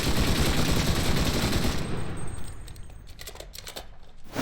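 A Browning machine gun fires in a video game, a loud, rapid sustained burst for nearly two seconds, then scattered ringing tails and metallic clinks of shell casings fading out.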